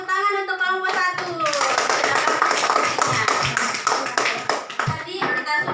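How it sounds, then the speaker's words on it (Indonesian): Group clapping in an Indonesian school classroom as pupils applaud a student group after its presentation, a dense wash of hand claps after a brief spoken start, with children's voices mixed in. "Kita tepuk tangan untuk kelompok 1."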